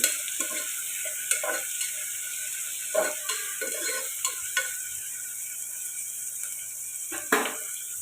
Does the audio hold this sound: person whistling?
no